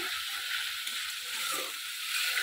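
Masala paste for a Bengali fish curry sizzles steadily in hot oil, a bright continuous hiss with soft stirring taps, close and fairly quiet.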